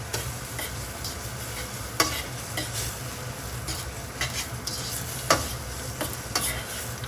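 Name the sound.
stirring spaghetti in carbonara sauce in a pan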